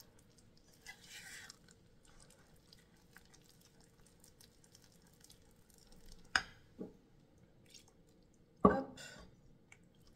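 Gluten-free sourdough levain stirred together with apple juice in a quiet kitchen, giving soft, faint wet stirring with a few sharper scrapes and sticky slaps near the end, a brief murmured word once.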